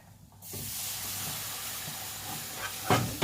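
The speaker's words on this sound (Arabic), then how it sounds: "وطينا النار عليها ونبدا نحط اللبن واحده واحده" Milk is poured into hot roux while making béchamel sauce for an eggless baked macaroni dish, giving a loud, steady hiss and sizzle that starts abruptly and continues, with a few sharper spits near the end.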